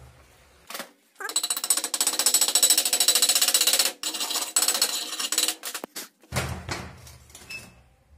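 Rapid metallic chipping and rattling taps from a small hammer knocking slag off a weld bead come in dense bursts, loud and close, with brief pauses and a scraping clatter between them.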